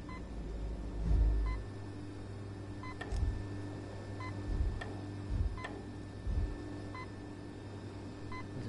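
Beeping in the Apex Construct PSVR video game: a steady series of short, clear electronic beeps about once a second, each with a faint echo, over dull low thumps and a quiet dark ambience.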